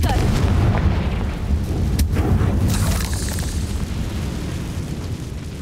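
Confringo spell explosion in Hogwarts Legacy, a loud booming blast with a sharp burst near the two-second mark amid dense, rumbling low-end game noise, with no talking.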